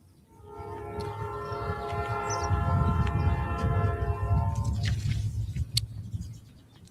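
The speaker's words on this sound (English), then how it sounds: "who told the train guy to come through right now while we're holding a press conference?" A passing train rumbles in, and its horn sounds a sustained chord over the swelling roar of the wagons before the noise fades, heard from beside the tracks at an outdoor press conference.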